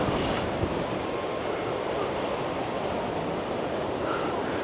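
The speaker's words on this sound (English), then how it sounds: "Oh, look at these waves here." Sea waves at Brighton beach roll in as a steady, broad wash of surf, mixed with wind buffeting the microphone throughout, with no one speaking.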